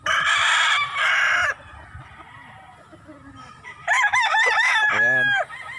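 Roosters at a gamefowl farm crow loudly and close by, one long call at the start and another warbling crow a few seconds later, with quieter clucks and farm noise between.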